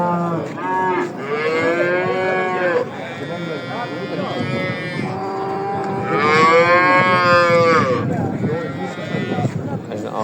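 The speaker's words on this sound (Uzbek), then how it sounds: "Hovuchun qishloq mol bozorida juda katta sigir. Ona bola sigir." A very large cow and her calf mooing at a village livestock market, several loud drawn-out moos close by, overlapping and alternating, with market noise underneath.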